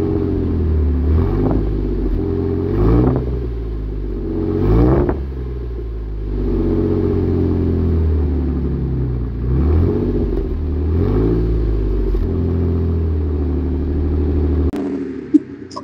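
A Jeep Wrangler engine at a muscle car fest revs in repeated loud bursts, climbing and falling back to a deep idle, with a sharp cutoff near the end.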